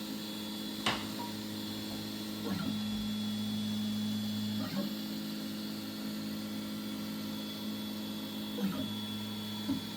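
A 3D printer fitted with a Goliath hot end runs steadily with a constant motor whine and mains-like hum, broken by a few brief ticks and shifts as the head changes direction, close and without talk.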